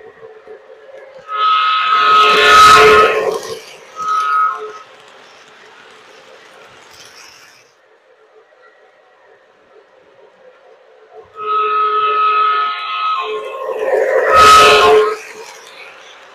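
A small model train, a Menards Santa Fe F3 locomotive set, passes close twice around a layout, its whirring and clattering swelling and fading, with quiet stretches in between.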